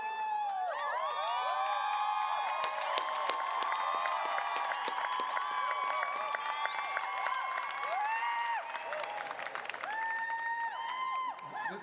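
Enthusiastic applause and cheering from a large crowd at a university graduation hooding and diploma ceremony, steady and continuous for about twelve seconds, with scattered whoops over music playing throughout.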